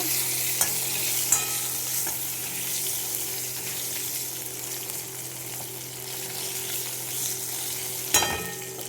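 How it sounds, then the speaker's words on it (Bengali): A potato fries in oil with black cumin (kalonji) seeds, giving a steady, close sizzle with occasional stirring scrapes and a few small clinks. "এবার দিয়ে দেবো একটা আলু, আলুটা ভেজে নেব।"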